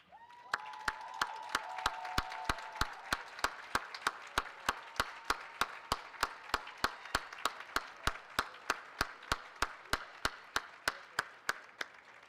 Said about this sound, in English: please rise so we can give you a round of applause